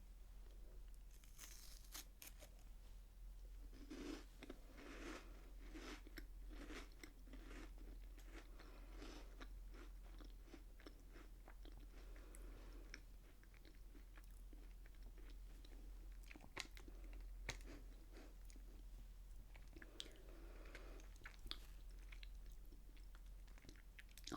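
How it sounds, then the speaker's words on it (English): A crunchy cream-filled biscuit bitten and chewed close to the microphone, faint crisp crunches and soft mastication repeating over a low steady hum. "It had a nice crunch, and then the cream in the middle kind of evened that out."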